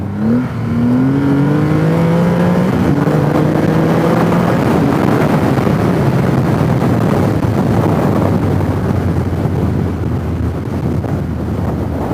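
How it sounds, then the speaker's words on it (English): A 2020 Triumph Rocket 3R motorcycle rolling on hard in second gear, the engine pitch sweeping upward quickly before dissolving into heavy rushing wind noise as speed builds, loud and continuous. "cracked it open in second gear."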